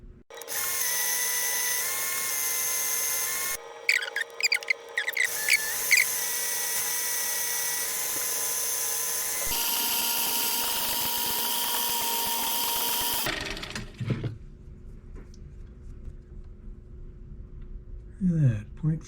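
A metal lathe turning a part down to a finer diameter for a desktop orrery gearbox runs with a steady high whine and cutting chatter for about thirteen seconds, then winds down into quieter clicks and handling noises.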